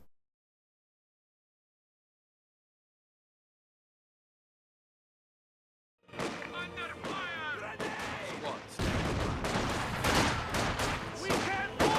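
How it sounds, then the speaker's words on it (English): Video-game battle: after six seconds of silence, gunfire erupts and a grenade blast goes off amid sustained shooting, loud and dense bursts with heavy low thumps continuing to the end. "I heard a grenade."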